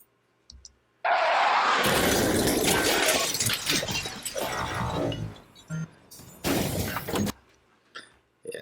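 Glass shattering effect for a Transformers Rivals 2 Megatron transformation: a loud, dense crash of breaking glass that tinkles and trails off over several seconds, followed by a second sharp burst and scattered clinks.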